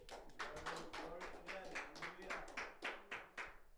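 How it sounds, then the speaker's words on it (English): Church congregation at a Sunday service giving a round of applause, a short burst of dense hand clapping from a crowd, moderately close and fairly faint, with a voice mixed in. "give God a big round of applause"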